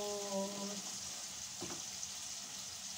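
Onions with ginger and garlic fry in a pan for pea pulao, a soft, steady sizzle heard faintly and close, with a short tonal sound at the start.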